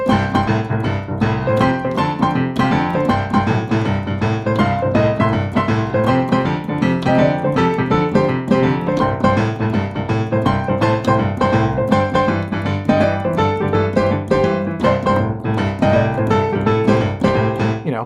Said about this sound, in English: And now you've got a more interesting boogie woogie.